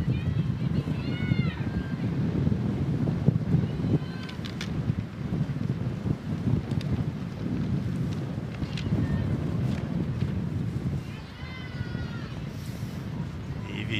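Wind gusting across an outdoor field during a women's college soccer match, a steady rough rumble buffeting the microphone throughout, with faint distant whistles and crowd sounds.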